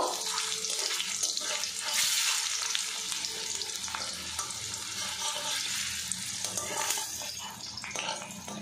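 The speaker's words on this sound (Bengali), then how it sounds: "এবারে এর মধ্যে গোল্লাগুলো দিয়ে দেব। সবগুলো গোল্লা আমি একসঙ্গে দিয়ে দেব, দিয়ে ভাজা ভাজা করে নেব।" Boiled ivy gourd (kundri) balls fry in hot oil in a home kitchen, with a dense, continuous close sizzle and crackle that swells and eases as they are stirred and turned.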